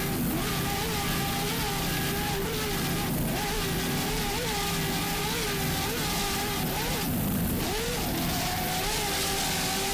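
An offshore racing powerboat, WHM Motorsports' Mr. Green, runs under steady throttle on big swells off St. Petersburg, its engine a loud, continuous roar with slight pitch wavering throughout.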